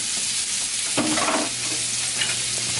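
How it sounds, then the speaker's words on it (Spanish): Chopped garlic and onion hit hot vegetable oil for a white bean and mushroom soup, producing a close, steady sizzle with a brief louder burst of frying as they are stirred. "le pongo ahí el ajo que teníamos picado y la cebolla picada"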